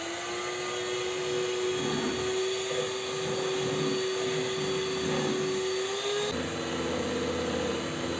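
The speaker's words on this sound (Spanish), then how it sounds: "Una vez que le echamos agua destilada, vamos a comenzar a licuar todo esto" A kitchen blender whirring at a steady high pitch as it liquefies peas in distilled water, a continuous close motor whine with churning texture that drops in tone near the end as the load changes.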